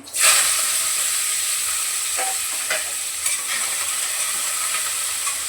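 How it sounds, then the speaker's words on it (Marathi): Cumin and coriander crackle and sizzle in hot oil in a kadhai, a loud, dense hiss right up close with scattered spoon scrapes and stirring knocks throughout, no talking. "जिरं परत फोडणीमध्ये कोथिंबीर पण तेलामध्ये टाकते मी"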